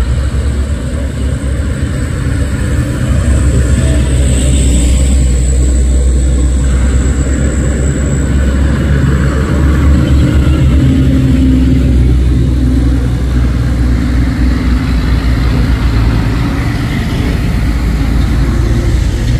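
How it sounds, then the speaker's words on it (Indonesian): Empty pickup trucks and a vegetable truck labour up the Bukit Kodok hill, their engines a loud, continuous low drone and rumble that swells and eases as the vehicles pass close by, with no talking. "Losbak dan truk sayur, losbak kosongan 3 unit bosku"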